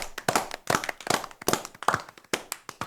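Podcast hosts applauding themselves with brisk, close handclaps, a dense run of sharp slaps in irregular clusters that continues steadily without any talking.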